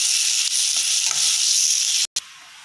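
Egg masala sautéing in a pan, a steady close sizzle with a few soft stirring scrapes and a brief cut near the end.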